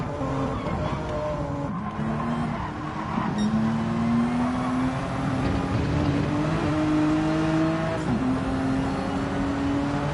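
Engine of a BMW GT4 race car in a racing video game at Brands Hatch, a steady loud drone that rises and falls through gear changes and a high-speed corner, heard alone without voices.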